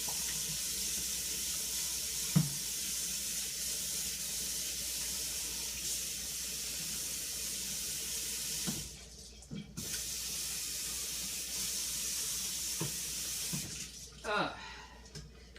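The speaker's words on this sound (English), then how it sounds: "I need to drain the sweet potatoes. So here comes Mr. Colander again." Boiled sweet potatoes drained in a colander, a steady close hiss of running water and steam with a few clunks and taps of the pot and colander.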